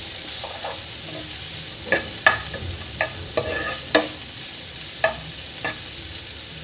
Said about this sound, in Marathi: छान एकत्र करून घ्यायचं आपल्याला बीट आणि कांदा